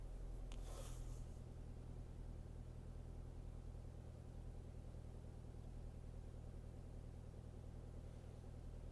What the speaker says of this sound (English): We're going to start the car and see how long it takes for it to connect.